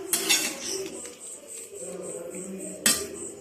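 A spoon scrapes and clinks against a cooking pot while khichuri is stirred, a few soft metallic taps and scrapes, quiet and close, with a brighter knock near the end.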